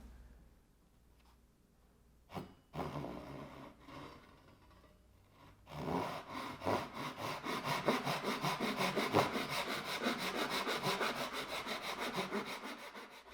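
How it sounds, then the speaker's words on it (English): A hand saw cutting a wooden circular cutting board along a traced line: a couple of isolated scrapes, then steady rapid back-and-forth strokes, close and fairly loud. "I could start sawing"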